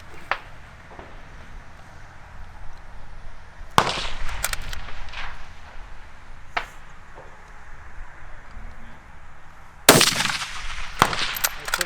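Precision rifle shots at an outdoor ranch shooting match, with two sharp, loud reports about six seconds apart, each followed by a brief rolling echo. Lighter knocks and faint background noise fill the gaps between them.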